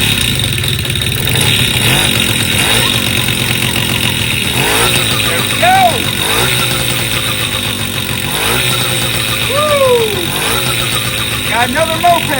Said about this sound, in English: Got another moped back to life.